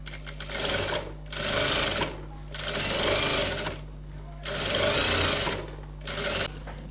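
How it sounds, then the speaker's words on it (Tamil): A sewing machine stitches the back piece of a boat-neck blouse in four close, loud bursts of rapid chattering, separated by short pauses where a low steady hum continues. "ஒரு ஸ்டிச் போட்டு எடுத்துக்கலாம்."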